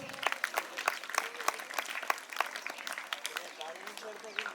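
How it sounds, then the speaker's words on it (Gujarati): Audience at a school Independence Day ceremony claps steadily in a room, a scattered, moderately loud round of applause lasting several seconds, with voices faintly beneath. "જોરદાર તાળીઓથી આપણે વધાવીએ"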